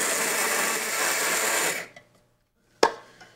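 A grinder whirs loudly on a cup of oats for almost two seconds, then spins down and stops, followed by a single sharp knock and a faint rattle.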